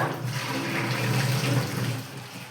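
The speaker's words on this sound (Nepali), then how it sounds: "पानी फालेर" Hot soaking water is poured off soybeans in a steady, gushing splash for a couple of seconds, then tapers off slightly at the end.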